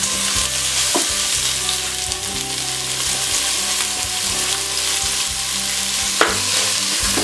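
Eggplant pieces sizzle steadily in a pan as onion and garlic are added, a dense continuous fry with occasional louder spatter bursts and light utensil scrapes, close and loud with no talking.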